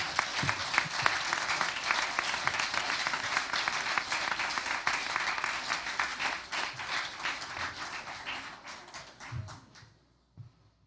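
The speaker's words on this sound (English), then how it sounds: "Let's give them all a big round of applause for a job well done" A spelling bee audience at a Canadian primary championship applauds steadily for about ten seconds, a dense, fairly close wash of many hands that thins and fades out near the end.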